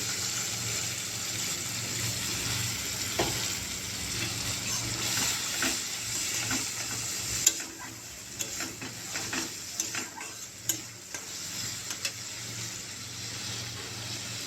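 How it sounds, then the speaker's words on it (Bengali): Chana masala sautés in a pan with a little water, giving a steady sizzle and bubbling, with scraping, stirring knocks and a few clatters. "এই যে জল দিয়ে কষছি অল্প অল্প করে জল দেব আর কষবো"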